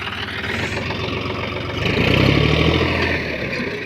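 A Mahto tractor engine runs under load with a steady low diesel throb that swells louder midway and then eases, close and continuous, with no clear talk over it.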